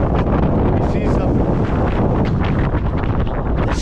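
Strong wind on a Scottish mountain near Ben Lawers buffets the microphone in continuous loud gusts and rushing noise, close and steady for several seconds, with no clear speech.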